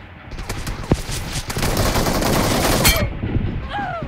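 Shotgun fire in the PUBG Mobile video game: loud, close gunfire that builds into a dense rattle of shots over a few seconds, then drops away to a short whizzing tail.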